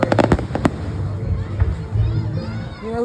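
Fourth of July fireworks burst in a rapid crackling series at the start, then keep booming more sparsely under a murmuring crowd with children's voices.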